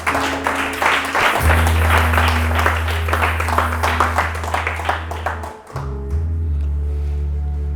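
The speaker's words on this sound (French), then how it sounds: "Acclame le Seigneur ici." Church congregation applauding during a worship service, steady dense clapping throughout with sustained organ or keyboard chords underneath, dipping briefly near the end before carrying on.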